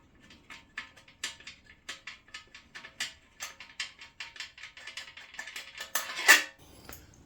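Air cleaner housing being worked loose from a Honda GL1000 Goldwing motorcycle during engine removal, heard as a close run of sharp plastic and metal clicks and ratcheting rattles that grow busier and louder toward the end, with no talk.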